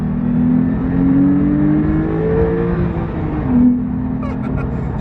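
A Porsche 911 Carrera T pulls away hard on a race track, its engine note climbing steadily in pitch as it accelerates, loud and close throughout with a brief surge near the end.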